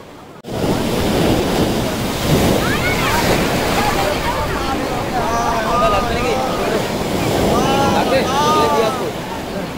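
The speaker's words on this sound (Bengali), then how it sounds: "তখন বুঝলাম এত বড় বড় ঢেউ কেন আসছে" Big sea waves breaking on the shore at Digha, a loud continuous roar of surf with wind buffeting the microphone and distant voices and calls mixed in.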